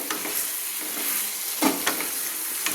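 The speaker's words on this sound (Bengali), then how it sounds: "দিয়ে আর একটু ভালো করে নেড়ে নিচ্ছি।" A spoon stirs chickpea chana masala in a pan over a steady sizzle, with several distinct scraping knocks against the metal, close and alone without talk.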